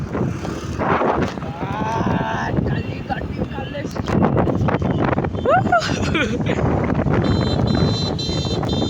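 Loud storm wind buffets the microphone in rumbling gusts in Ahmedabad, mixed with voices and some high-pitched tones.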